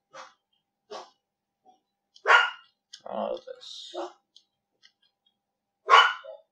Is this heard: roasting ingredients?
no